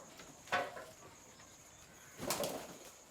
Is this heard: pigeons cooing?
yes